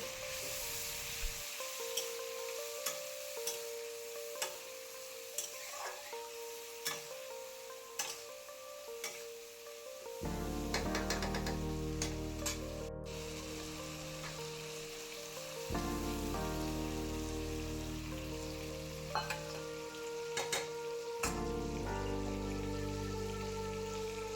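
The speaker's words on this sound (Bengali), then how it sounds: "ওই পেস্টটা এখন আমি এখানে তেলের মধ্যে দিয়ে দিলাম দিয়ে এটাকে তেল ছেড়ে আসা অবধি ভালো করে কষাতে হবে" Tomato and spice paste sizzles and spatters steadily in hot oil, a dense continuous frying hiss with occasional stirring scrapes, growing louder partway through as the paste fries.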